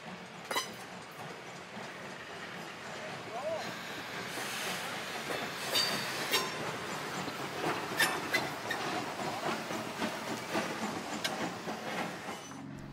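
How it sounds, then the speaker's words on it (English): An old Baldwin steam train rolls past a depot on a Christmas run, with steady clanking wheels and rattling cars, squeaks and knocks over a continuous rumbling roar lasting the whole stretch. "an old Baldwin passing a depot that's 26 years older than"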